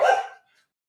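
A single short dog bark from a pet puppy, close and fairly loud, sounds once and cuts off sharply, leaving silence.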